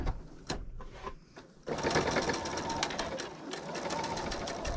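A sewing machine stitches fleece fabric with a quarter-inch foot, starting with a few short bursts and then running in a steady, close, continuous rattling whir for the rest of the clip.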